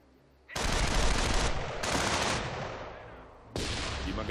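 Machine gun suppression fire in the Company of Heroes strategy game, three loud bursts of rapid automatic fire, each decaying before the next, close and without speech.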